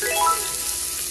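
Chopped garlic hits hot oil in a frying pan for Ilocano-style pinakbet and gives a loud, close, steady sizzle with a brief brighter crackle at the start.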